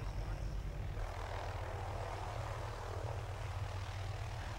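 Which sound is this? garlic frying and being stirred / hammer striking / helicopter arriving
helicopter arriving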